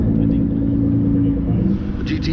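Engine of a GT car rumbling close by as it pulls off at a Cars and Coffee show, steady and loud with a low growl, and voices in the background.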